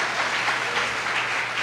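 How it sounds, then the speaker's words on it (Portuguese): Church congregation applauding during a Sunday worship service, a brief dense patter of many hands clapping at moderate volume, with no voices on top. "Quem está feliz com Jesus, dê uma salva de palmas ao nome do Senhor Jesus"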